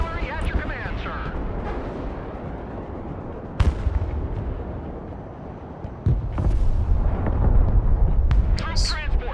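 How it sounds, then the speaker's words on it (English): Rocket artillery launching in the strategy game Broken Arrow, a dense roaring barrage with sharp booms cutting through, heavy and continuous, with game unit voice lines mixed in. "Rocket artillery at your command, sir."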